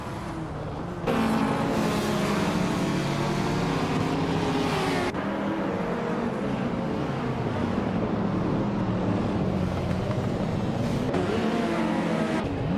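A Toyota Celica race car engine roars steadily in a racing video game, with sustained revving and shifting pitch as other cars run close by, loud and continuous with no talking.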